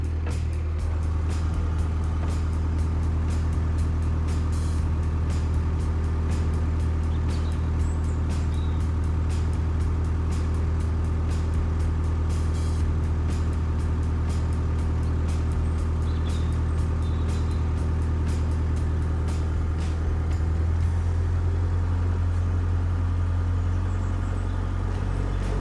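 A boat engine runs steadily on the River Aire near King's Mill, a continuous low droning hum that holds loud and even, its tone shifting slightly lower near the end as it comes up to cruising speed.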